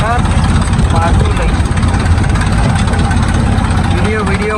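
A tractor engine runs steadily and loud close by while pulling a rotavator through a field, a constant rumbling drone with a mechanical churn.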